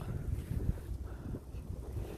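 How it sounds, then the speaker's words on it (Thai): Strong wind on a city street in South Korea buffets the microphone with a constant low, gusty rumble that swells and dips throughout. "ลมแรงมาก"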